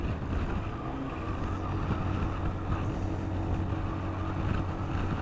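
An old vehicle's engine labours steadily up a steep hill, a continuous low drone with wind rushing across the microphone and no voices.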